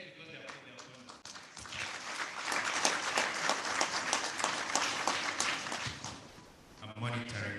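An audience at a university event bursts into applause. The clapping swells to a loud, dense peak and then fades, and voices can be heard around it.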